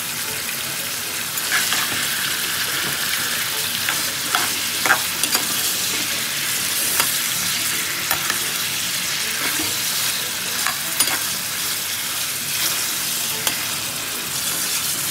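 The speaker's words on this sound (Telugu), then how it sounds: "అవి వేసి చక్కగా కలుపుకోవాలి." Cardamom, cloves and cinnamon sticks frying in oil for mutton fry, a dense steady sizzle with a spoon stirring and scraping in the pan, producing scattered light clinks and taps throughout.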